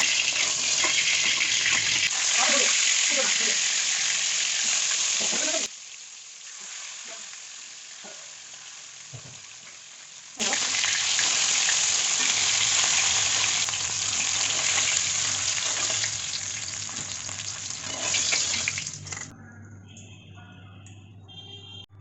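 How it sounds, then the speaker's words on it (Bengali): Tilapia fish frying in a pan of hot oil makes a loud, steady sizzle. The sizzle drops to a quieter crackle for several seconds, then surges back before stopping. "মাছটা আমাদের দু পিঠ ভালোভাবে ভাজা হয়ে গেছে"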